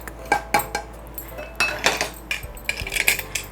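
Meat vada ingredients are mixed in a metal bowl with a spoon, giving a series of sharp clinks and scrapes in an irregular rhythm, close and moderately loud, with no voices.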